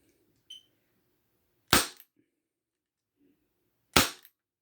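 Two sharp, loud shots from a Win Gun 731 airsoft gas revolver, spaced about two seconds apart, each a crisp crack standing alone with a small click just before the first.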